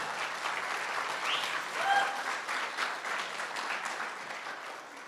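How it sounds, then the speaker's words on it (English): Crowd at a guide dog graduation ceremony applauding the graduating class, a steady, moderately distant round of clapping from many hands that holds evenly and eases slightly at the end. "one more round of applause for the graduating class"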